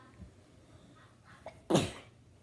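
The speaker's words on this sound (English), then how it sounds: "Hold on, I need to sneeze." A single sharp sneeze bursts out after a couple of quiet breaths, close and fairly loud against a hushed background.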